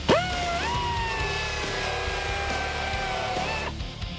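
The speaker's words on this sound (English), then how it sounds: "You take your belt grinder and you just concentrate on each individual spot weld." A belt grinder works spot welds on a car body panel in a collision repair shop, a loud, steady whining grind with ringing overtones that holds for several seconds, then cuts off.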